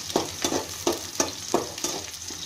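Mint leaves sautéing in a pan for Tamil-style pudina chutney, a steady sizzle broken by regular stirring scrapes about every third of a second, close and moderately loud with no talk.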